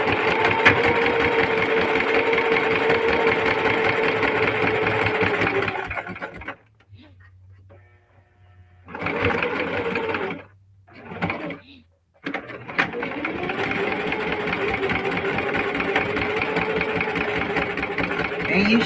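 Singer Heavy Duty sewing machine top stitching a crossbody bag, loud fast steady whirring that stops for a few seconds, then resumes in two short bursts and a long final run.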